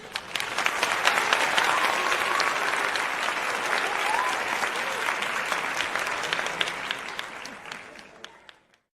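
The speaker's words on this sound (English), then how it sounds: "Let me get my little applause in for those of you who joined me in the chat" Canned applause effect played over a live chat stream, a steady dense wash of many hands clapping with crowd noise, holding loud for about eight seconds before fading out.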